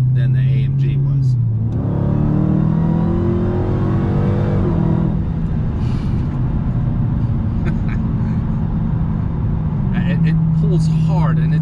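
Supercharged Dodge Challenger Hellcat V8 revving hard under full throttle, a loud rising engine roar that climbs, holds, then settles back to a steady idle rumble, close by with a person talking over it.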